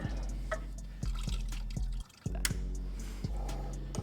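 Coolant from a BMW B58 engine drips into a drain pan in a steady series of distinct, close drops over a low background hum, with a brief pause partway through.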